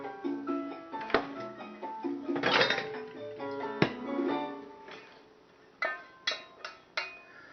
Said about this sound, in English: Some of the melted chips on the bottom. So I'm going to spoon them out